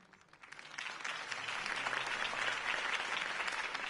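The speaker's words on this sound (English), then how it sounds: "could have heard that applause" A crowd applauds at a political campaign speech in the video game Batman: The Telltale Series, episode 1, Realm of Shadows. The clapping swells quickly from quiet to a full, steady ovation and holds at that level, with no voices over it.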